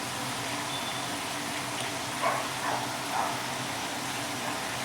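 Catfish fries in a skillet, giving a steady, dense sizzle with a few soft pops and crackles rising over the hiss.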